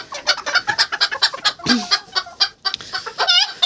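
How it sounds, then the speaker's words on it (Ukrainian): A small bantam hen clucks and squawks in quick, agitated bursts, close by, with rustling in between. "Курочка така маленька."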